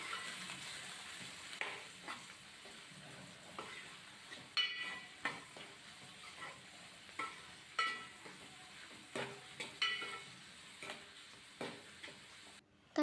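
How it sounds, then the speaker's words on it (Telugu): About one and a half cups of onions with slit green chillies fry in a pan for a tomato egg curry, a faint low sizzle punctuated by repeated light scrapes and taps of a spatula, with no talking. "ఒకటిన్నర కప్పు ఉల్లిపాయలు వేసుకొని కలర్ చేంజ్ అయ్యేంత వరకు ఫ్రై చేసుకోవాలి."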